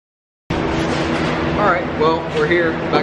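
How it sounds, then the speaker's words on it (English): Loud, steady broadband fan roar fills a hot tuning shop after a dyno session on an MK7 Golf R, running continuously after a silent start while someone talks over it. "Obviously, sorry for the fan noise."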